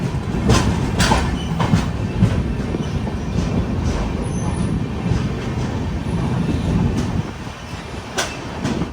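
The Netravati Express rumbles through the 6.5-kilometre Karbude tunnel on the Konkan Railway. The heavy, echoing roar of rolling wheels is broken by repeated rail-joint clacks, with a faint squeal near the middle.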